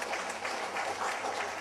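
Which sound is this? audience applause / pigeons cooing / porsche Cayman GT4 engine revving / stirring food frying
audience applause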